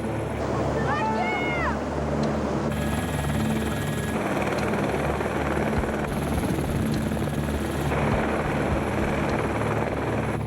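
A rescue helicopter in a canyon drones loudly and continuously with a heavy rotor thump, while a voice briefly speaks over it.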